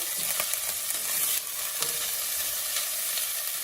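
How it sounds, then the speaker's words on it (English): Spices such as hing being stirred and dry-roasted in a hot pan, a steady close frying hiss broken by a few scraping stir strokes, with no voices. "Let's give it a quick stir."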